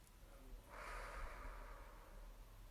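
A single slow, soft breath during a guided meditation, a gentle airy rush that rises and fades over a couple of seconds above a quiet low hum.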